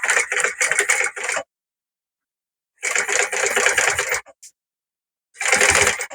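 A sewing machine stitches covered piping in quick, rattling bursts: about a second of fast stitching, a pause, a longer run, then another short burst, close up and with no voices.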